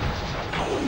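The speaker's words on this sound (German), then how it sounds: "Das ist halt die lauteste Fähigkeit von allen. Knallt wie ein Erdbeben." A booming earth blast ability in the video game The Legend of Spyro: A New Beginning, a loud, dense rumbling crash that fills the brief moment like a quake.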